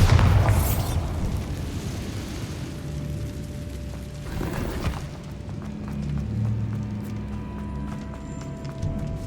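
A Bombarda blast spell in Hogwarts Legacy goes off with a loud, booming burst near the start, rolling into a second low explosive rumble midway, with game ambience and music continuing beneath.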